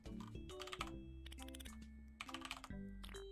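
Quick, uneven clatter of computer keyboard keys during a typing video game, bursts of rapid keystrokes over layered game music tones, no talking.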